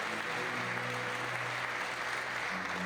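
A crowd at the La Sportiva Legends Only 2018 climbing competition applauds, a continuous dense clatter of clapping with a low hum underneath throughout the short stretch.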